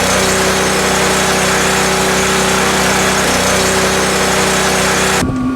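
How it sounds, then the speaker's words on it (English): A Predator portable generator runs outdoors at a steady, loud engine drone with a constant hum and no change in pitch, then cuts off abruptly at the very end. "I'm going to run the generator for a few minutes outside to get the oil warmed up, make it flow better."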